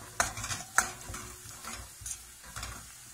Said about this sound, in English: So, onions in, and we're going to fry those onions now.